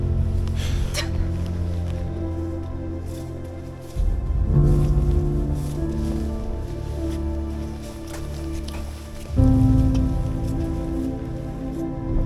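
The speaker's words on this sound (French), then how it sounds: "c'est sympa quand même de randonner sous la pluie quand on est bien protégé" Rain falls steadily around hikers on a mountain trail in the Lofoten Islands, a dense, close hiss of drops on rain gear and ground with rustling movement, loudness swelling at moments and no talking.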